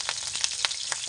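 Onions fry in a home kitchen pan with a steady broadband hiss and sizzle, broken by a few soft crackling pops and stirring scrapes.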